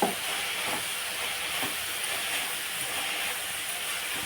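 Cabbage and coconut fry in a covered pan, giving a steady, fairly loud hiss and sizzle that holds evenly throughout, with no voices over it.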